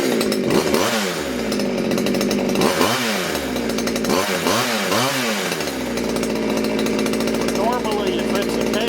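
A Poulan Wood Shark chainsaw with a suspected sticky needle and seat runs loud and close, its engine rising and falling in several sharp revving bursts before settling into a steady high idle.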